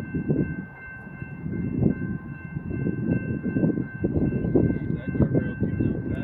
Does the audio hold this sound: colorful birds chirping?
no